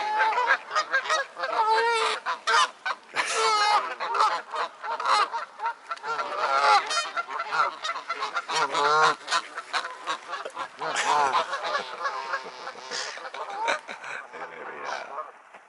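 Geese and other waterfowl fighting on a bird island, a loud, dense run of overlapping honks and squawks nearby, with people talking now and then.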